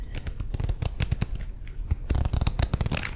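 A deck of cards shuffled up close, quick crisp riffles and rapid flicking bursts in an irregular run, crackly and intimate in a soft-spoken ASMR setting.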